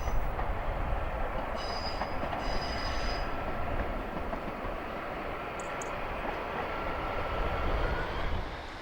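A train on the Cumbrian coast railway line in England gives a steady, moderately distant rumble, with brief high wheel squeals and a gradual swell toward the end.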